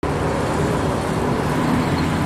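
A car moves through city traffic, a close, steady broadband roar of engine and tyre noise filling the short stretch without pauses, no voices on top.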